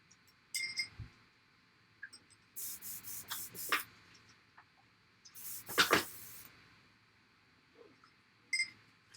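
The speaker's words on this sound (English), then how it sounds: "I'm going to clean out my airbrush real quick." An airbrush being cleaned out, with several short hissing spray bursts, close and loud, separated by quiet gaps and faint clicks.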